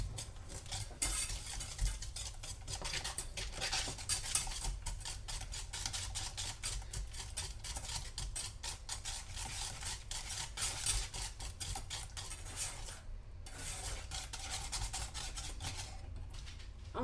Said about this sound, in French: on mélange bien comme il faut